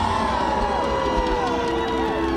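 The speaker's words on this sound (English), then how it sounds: "You hear the roar of the crowd." A large crowd roaring and cheering at an Olympic ceremony, a dense sustained wash of voices with whoops, under a commentator's voice.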